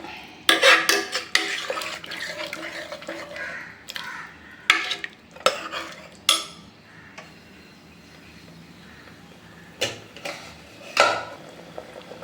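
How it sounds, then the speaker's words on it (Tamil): Boiled potatoes tipped into a pot of mutton curry, giving a run of clattering metal knocks and stirring scrapes in short bursts, then a quieter stretch before a few more spoon-on-pot clanks. "இப்போ நம்ம அதில் வேக வச்சு அந்த உருளைக்கிழங்க சேர்த்துக்கோம்"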